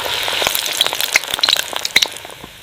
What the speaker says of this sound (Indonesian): Maka ia mencoba menggoreng tahu putih tersebut